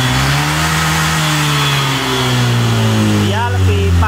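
A Honda Vario 125 scooter engine, worked on for a faulty throttle position sensor, is held at full throttle, producing a loud close steady high rev that climbs slightly, with a voice speaking over it.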